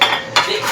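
Metal utensil scraping and clinking against a pot while food is stirred for linagpang nga puso, two bursts of stirring separated by a brief pause, close and alone.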